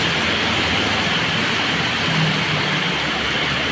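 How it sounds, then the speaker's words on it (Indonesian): Heavy rain falling steadily in an Indonesian street, a continuous dense wash of broadband noise with no breaks, loud and close throughout with no voices. "Sudah hujan, basah kuyup."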